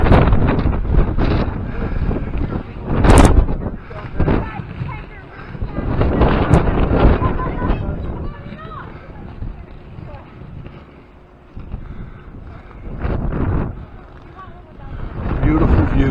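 Strong, cold winter gusts at the summit of Whiteface Mountain batter the microphone in heavy rumbling bursts, with a voice talking intermittently underneath the wind.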